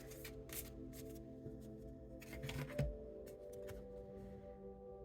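Oracle cards shuffled by hand, a close, soft riffling and shuffling with several quick bursts over a low steady hum, no voice.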